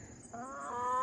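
Chickens cluck in an enclosed, predator-proof backyard coop built by hand, a short close burst of fowl calls with a rising tonal squawk toward the end over a low background hum.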